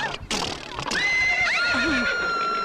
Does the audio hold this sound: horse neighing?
yes